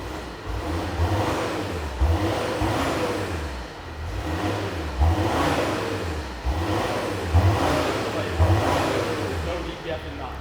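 Volvo D5 five-cylinder diesel, exhaust unmodified, revving repeatedly in rising and falling swells, fairly close and loud, with some voices talking over the engine.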